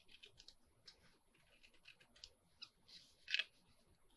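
Loose fuzzies being trimmed with a blade, a series of faint, quick snipping and scratching clicks spread irregularly across a quiet room, with one slightly louder cut near the end.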